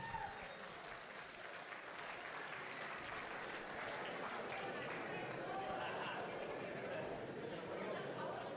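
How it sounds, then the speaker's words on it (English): A crowd applauds both fighters after a drawn three-round bout at a combat-sports event, steady dense clapping filling the hall for the whole stretch with a murmur of voices underneath. "Give a warm round of applause for both fighters"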